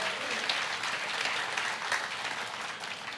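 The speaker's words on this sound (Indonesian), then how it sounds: "Berikan tepuk tangan buat Tuhan." A church congregation breaks into sustained applause during a sermon, steady dense clapping filling the space without pause, moderately loud and continuous throughout.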